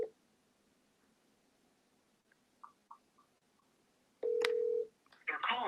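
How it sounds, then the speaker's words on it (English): A phone number is redialed on a telephone keypad: a few faint key clicks lead into a loud, steady DTMF tone lasting about half a second, followed by a brighter burst of dial or ring tone. "I'm gonna double dial them."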